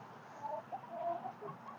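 Chickens cluck in short, irregular bursts over a quiet background, close by, with no talking.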